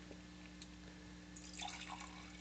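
Old Vine Zinfandel red wine from California, poured from an $8 bottle into a glass, gives a faint, brief liquid trickle and splash near the end, over a low steady hum.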